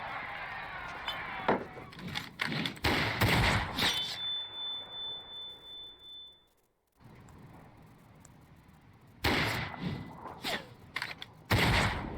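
Gunshots ring out in a Final Fantasy XIV: Shadowbringers cutscene, arriving as clustered sharp cracks in two loud bursts separated by a quieter stretch with a brief tonal ring and a moment of near silence.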